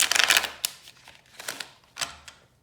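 Tarot cards are shuffled close by in several quick riffling bursts separated by short pauses, with no speech.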